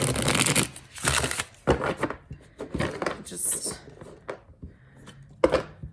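A deck of tarot cards being shuffled several times, giving a run of papery riffles and slaps close by, with someone speaking over and between them.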